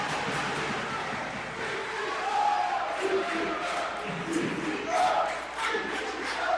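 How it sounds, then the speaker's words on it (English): Wrestling crowd at a CCW Game On event in Nashville chanting in rhythmic waves, the rising and falling voices heard at moderate distance through a steady arena murmur. "The fans are chanting CCW."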